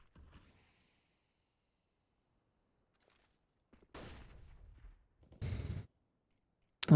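Gunfire in the shooter game CS:GO comes in short isolated bursts, one at the start and then two sharper clusters of rapid shots later, separated by near silence.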